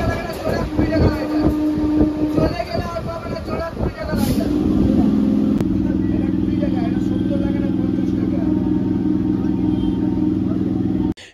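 A local train in West Bengal heard from a window seat inside, with a steady rumble and a droning engine tone. A voice talks over it early on, then the noise settles into a continuous hum.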